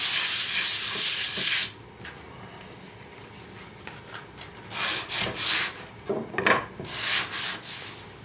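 Sandpaper rubs across a roughened wooden board for a round breadbox base in several bursts of harsh, scratchy strokes, close and fairly loud, with quieter pauses between passes.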